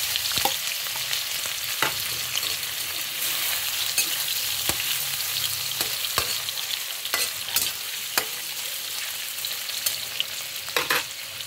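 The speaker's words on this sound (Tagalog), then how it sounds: "I-fried muna natin ang hotdog." Hotdog slices fry in a pan for spaghetti sauce, giving a steady close sizzle with occasional clicks and scrapes of stirring.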